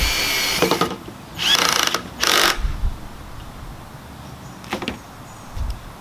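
Short bursts from a power drill driving screws to secure the aprons of a DIY TV console, three loud whirs in the first half then two fainter bursts later, with quiet gaps between.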